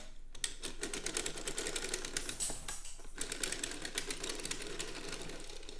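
A circular sock knitting machine is hand-cranked through a row near the wedge heel mark, giving a close, fast, steady train of metallic clicks and clacks with one brief pause.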